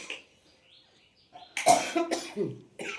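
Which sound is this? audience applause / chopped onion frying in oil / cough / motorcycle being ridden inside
cough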